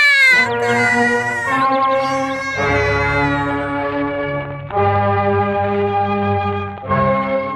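A cat meows loudly and at length after a santol fruit falls onto its head, the drawn-out, wailing calls repeating in several strong bursts with no other sounds around them.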